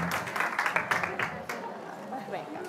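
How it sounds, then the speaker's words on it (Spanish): A small audience at a children's cupcake decorating demonstration claps in a short, fairly quiet burst of applause that fades after about a second and a half. "os pido un aplauso para ellas"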